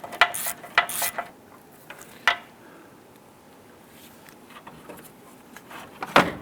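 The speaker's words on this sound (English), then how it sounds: "You can use a swivel 10mm socket and extension. And loosen and remove that bolt." Ratchet with a swivel 10mm socket and extension loosening and removing a bolt while replacing the A/C condenser on a 2008-2013 Nissan Rogue; a few short bursts of clicking ratchet strokes, close, then a quiet pause and a final burst.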